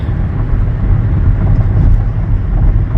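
Loud, continuous low road roar of a car accelerating on an expressway, a steady rumble of engine and tyres with no voices.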